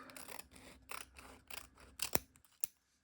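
Scissors snip through fabric for a collage with hand embroidery, a handful of crisp close cuts in an irregular rhythm, ending with a sharp final snip.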